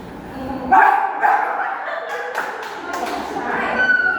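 Voices imitate two dogs barking during a children's music lesson, giving short, yelping bark-like calls in quick succession, with some talk in the room.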